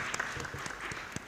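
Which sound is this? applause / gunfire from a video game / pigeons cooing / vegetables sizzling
applause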